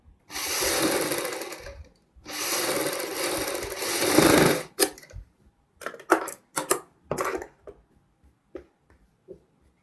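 A sewing machine stitches a kurti neckline in two sustained runs of a few seconds each, loud and close, followed by short bursts of stops and fabric handling.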